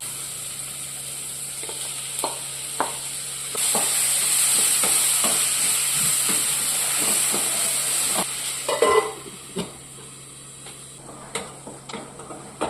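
Chopped taro stalks and leaves sauté with onion in a pan, a steady close sizzle with stirring scrapes and clicks, the hiss rising mid-way then giving way to sharper spatula knocks near the end.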